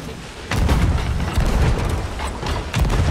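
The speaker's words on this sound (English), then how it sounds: "let's get him with four cannons here, boys" Ship cannons in Sea of Thieves fire on a Megalodon in a volley of deep booming blasts over rough wave and wind noise, with a voice briefly heard amid the barrage.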